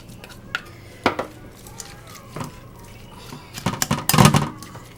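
A knife chops nopal cactus into smaller pieces for a salad, giving scattered sharp taps and clatters on a board or dish, sparse at first and then a denser burst of knocks near the end.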